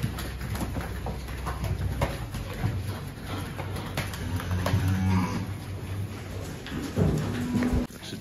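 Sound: dairy cows mooing on a farm

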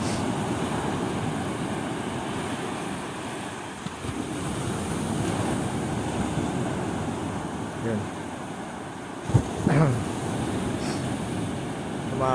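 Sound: sea waves around a fishing boat

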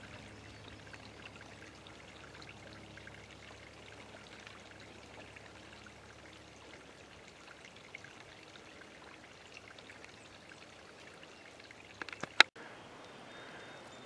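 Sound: river flowing in the woods

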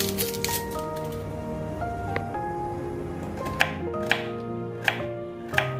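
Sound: chopping onions into long strips

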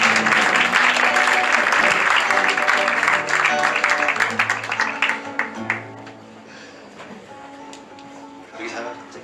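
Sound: applause from audience

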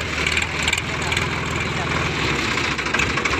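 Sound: Sonalika tractor engine running

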